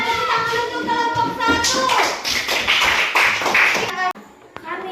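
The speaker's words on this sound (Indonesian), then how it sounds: "coba tepuk tangan untuk kelompok" A classroom full of students applauds for the first group, a dense burst of clapping that fades out after about four seconds, with voices mixed in and a couple of sharp taps afterward.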